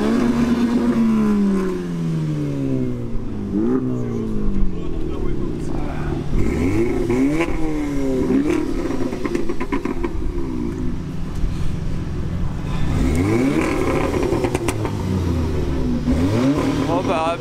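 A Honda Civic Type R revs at a large car meet, its engine climbing and falling in repeated sweeping pulls over a busy crowd, with people talking throughout.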